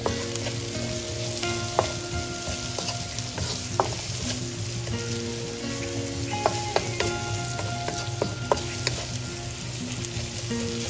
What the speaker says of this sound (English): I'm just adding 1/4 teaspoon of salt just to get the onions to start to sweat